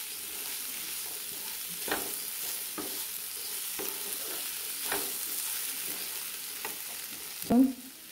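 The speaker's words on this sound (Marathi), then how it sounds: "आपण ही भाजी छान परतून घेणार आहोत." Boiled, cut potatoes for a vegetable dish being sautéed in a pan, with a steady low sizzle under repeated spatula scrapes and stirring knocks and a sharper clatter near the end; no voices.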